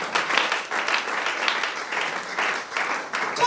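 Congregation at a church seminar applauding together, a steady dense wash of clapping with faint voices underneath, holding fairly even for the whole stretch.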